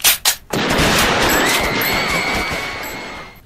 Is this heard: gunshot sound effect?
yes